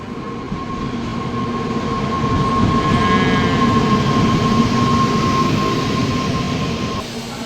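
A train rolls past near a temple fair, a loud sustained rumble of wheels on rails with a steady ringing tone running through it and a brief rising squeal partway along, close and continuous.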